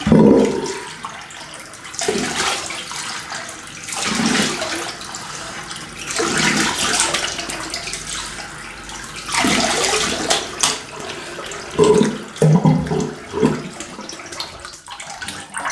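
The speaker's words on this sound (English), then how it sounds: "let's have a cold water rinse" Cold tap water runs in bursts for a face rinse during a wet shave, with steady splashing broken by several pauses and restarts, close and fairly loud, with no talking.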